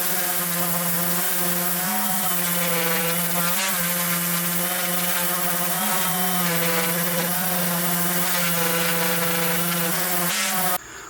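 A power sander grinds continuously on welded steel on a full-size Jeep frame being repaired for holes and cracks, with a steady droning whine held for about ten seconds before it cuts off at the end.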